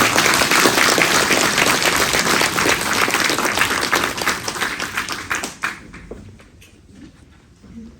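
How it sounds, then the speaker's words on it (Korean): An audience at a public forum on a neighborhood redevelopment plan gives loud, sustained applause and clapping for the expert panel, filling the room before thinning out and fading near the end. "고생하신 5분의 전문가에게 뜨거운 박수 부탁드리겠습니다"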